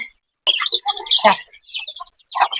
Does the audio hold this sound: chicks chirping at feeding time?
yes